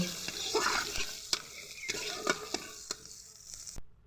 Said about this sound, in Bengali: কড়াতে তেল দিয়ে দেব। বাটা মশলাগুলো একসঙ্গে দিয়ে কষে নেব।